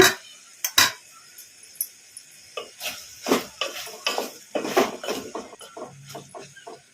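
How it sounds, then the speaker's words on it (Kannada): A metal plate used as a lid is lifted off a pan, then an eggplant fry is stirred, giving a sharp clink followed by a run of scraping, clattering utensil-on-pan sounds, close with no talk. "ಈಗ ಒಂದು ಸಲ ತಟ್ಟೆ ತೆಗೆದು ನೋಡಿ ಕಲಿಸ್ಕೊಂಡ್ಬಿಡೋಣ"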